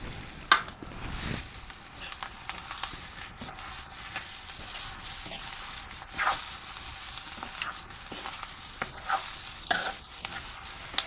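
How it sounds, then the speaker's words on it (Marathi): Boiled ivy gourd being mixed into frying stone-ground masala in oil over a wood-fired stove, with a continuous close sizzle, repeated scraping stir strokes and occasional clinks of the spoon on the pan, no voices. "तर आता ही तोंडली चांगली आपण मसाल्यामध्ये असे चांगले मिक्स करून घ्यायचे."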